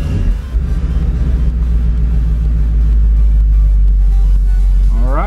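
A 2015 Mustang GT engine, rebuilt after a wreck and running without its intake, cranks and catches into a loud, deep, steady rumbling idle that swells into a rev at the very end.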